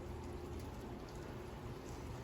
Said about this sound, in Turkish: Çok Yağmur çiseliyor.